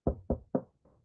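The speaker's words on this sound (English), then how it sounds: "knock on wood" Knocking on wood: three sharp, evenly spaced knocks close by, followed by a fourth softer tap, all within about a second with no voices.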